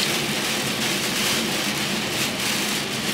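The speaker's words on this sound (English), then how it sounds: "It's raining heavy as hell." Heavy rain pours steadily on a car being driven through Atlanta, a dense, unbroken hiss of water drumming on the vehicle, loud and constant throughout with no voices.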